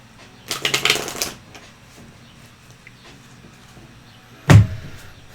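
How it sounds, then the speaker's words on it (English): A deck of tarot cards being shuffled by hand during a live reading, a quick burst of riffling flutters near the start, then quiet, then a single louder knock or tap of the cards. "So I'm going to shuffle these actually"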